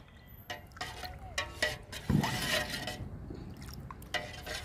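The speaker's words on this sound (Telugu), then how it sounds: "ఇప్పుడు ఈ లిక్విడ్ని కలుపుకుందాము బాగా." A tea-based liquid plant fertilizer for chrysanthemums and roses is stirred in a container: steady sloshing and swirling with irregular scraping knocks against the vessel's sides, close and moderately loud, with no talking.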